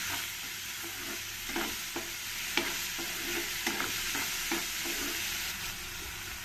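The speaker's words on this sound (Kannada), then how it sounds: "ಇದನ್ನೆಲ್ಲ ಸ್ವಲ್ಪ ಚೆನ್ನಾಗಿ ಇವಾಗ ಮಿಕ್ಸ್ ಮಾಡ್ಕೋಬೇಕು" Tomato, ginger and garlic fry in a pan with a soft, steady sizzle, punctuated by regular scraping strokes of a spatula stirring the mix, close and without talk.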